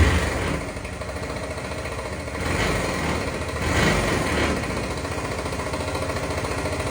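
A Yamaha Jog scooter engine kick-started with its starter drive removed, fault suspected inside the engine, runs steadily and close by with a dense, buzzy drone that swells slightly twice.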